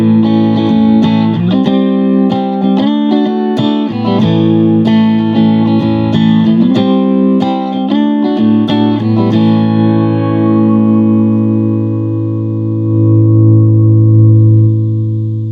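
An electric guitar played through a JHS Pack Rat distortion pedal rings out with a series of picked, gritty notes and chords, then a long sustained distorted chord decays and swells, loud and close with no talk.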